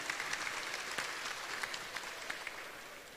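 Applause from an audience welcoming a university rector at a safe-agriculture fair in Isan, a steady even patter of many clapping hands throughout, with no talk over it.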